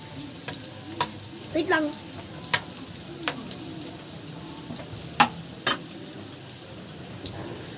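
Ginger and garlic fry in a pan with a steady close sizzle. Sharp clicks of a utensil striking the pan come at irregular moments, and a brief spoken phrase sits under the frying.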